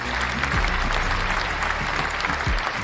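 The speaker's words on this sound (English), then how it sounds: "Applaud him." An audience applauds a performer being introduced at a comedy show, dense steady clapping from a modest crowd with a few low thumps underneath, no speech over it.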